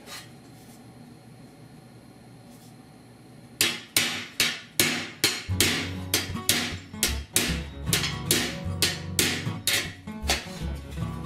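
Quiet background, then a curved-face hammer starts striking rusty sheet metal of a 1978 Ford F150 disk brake duct in a steady series of sharp, ringing blows, close and loud, continuing to the end.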